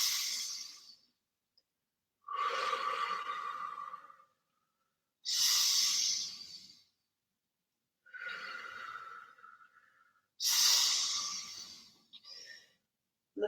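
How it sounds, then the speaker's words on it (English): Slow, deep breaths during a qigong breathing exercise, five long airy inhales and exhales heard close up, with silent pauses between them and no other sound. "let's do 3 more breaths like this."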